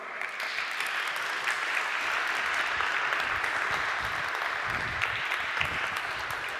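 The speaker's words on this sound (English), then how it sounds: "I would request here with a round of applause to the stage, the Managing Director of IFA" An audience at an industry media briefing applauds as the IFA managing director is welcomed to the stage, a sustained, even round of clapping throughout with no talking.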